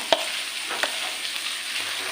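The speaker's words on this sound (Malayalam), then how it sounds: "കറിവേപ്പില ഇടുവാണേ മഞ്ഞപ്പൊടി ഇടുവാണ്" Curry leaves and turmeric powder sizzle in hot oil as a steady close frying hiss, with a couple of sharp crackles near the start and scrapes of stirring.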